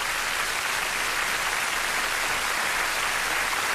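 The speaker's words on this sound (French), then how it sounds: "Applaudissez le duo Maiers" Audience applause for the duo Maiers after their German comedy trapeze act, a dense, even wash of clapping from a large crowd, sustained and moderately loud throughout.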